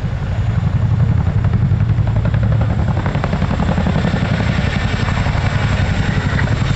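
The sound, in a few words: RAF Chinook helicopter flying at Cosford air show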